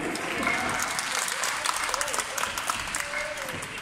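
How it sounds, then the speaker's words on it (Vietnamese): Crowd applause at the opening ceremony of the Chi Linh spring shuttlecock (đá cầu) tournament, a dense steady clapping filling the whole stretch with a voice talking over it. "hãy vỗ tay cổ vũ"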